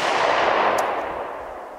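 A single 9 millimeter pistol shot, from a small Shield handgun fired outdoors during family target shooting, lands as a loud, sharp report whose hissing tail rings out and slowly fades.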